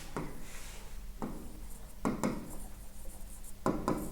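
Pen or chalk writing notes during a lecture, a few scattered scratchy strokes in short bursts over a steady room hum, with no speech.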